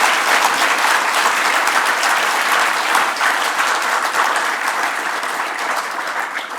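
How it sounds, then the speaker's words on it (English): An audience gives a panel at a screen industry expo a round of applause, dense steady clapping from many hands, loud and sustained throughout. "Can I ask everyone to give them a round of applause for their work so far?"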